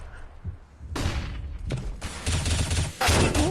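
Gunfire in a Counter-Strike match on the Mirage map, HellRaisers vs. Reason: dense, loud bursts of rapid shots and heavy thuds, building into sustained automatic fire.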